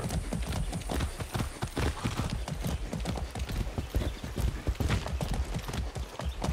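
Steady clip-clop of horse hooves trotting at an even rhythm in the video game Far Cry 6, close and fairly quiet, with no talking over it.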